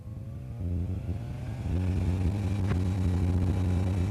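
The engine of an A22L Foxbat light aircraft, with two aboard, steps up to takeoff power, a loud, steady droning roar that jumps in level partway through and then holds near and constant.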